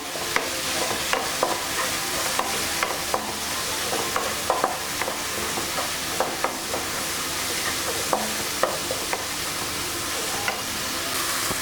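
Dal with tomatoes, turmeric and chili powder being stirred in a pan on an Andhra stovetop, a steady low sizzle broken by repeated clicks and scrapes of the spoon against the vessel, close and without speech.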